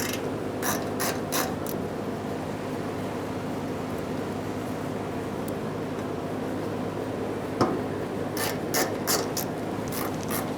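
Ratchet clicking in short bursts while snugging fuel tank mounting bolts on a 1992-1996 Toyota Camry, close and steady over a constant low background hum.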